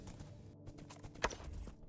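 Horse hooves in the Minecraft video game while riding, heard as a few soft irregular clip-clops at moderate distance with a sharper knock in the middle, fairly quiet overall.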